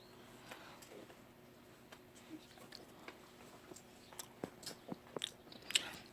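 Quiet crunchy chewing and biting on a piece of Kinder Surprise chocolate egg, soft irregular crunches close to the ear, building toward the end with a few sharper clicks and little talk.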